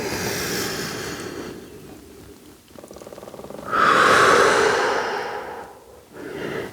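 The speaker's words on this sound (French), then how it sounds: "J'inspire, je contracte. J'expire, je relâche." Slow, deep breaths during a relaxation exercise on a ball, a long audible exhale followed by a softer, airy inhale, close and unhurried with no talking.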